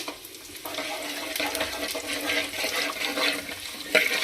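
Mustard seeds, cumin, curry leaves and dried red chilies crackle and sputter in hot oil for a sambar tempering, a steady close hiss with sharp pops throughout and no talking.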